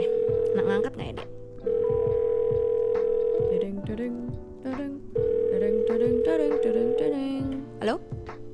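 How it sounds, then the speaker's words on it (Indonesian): A phone call rings out over a line: long steady ringback tones repeat with pauses, while music and chatter run underneath. "Dan kali ini ntar kita telepon dulu orangnya"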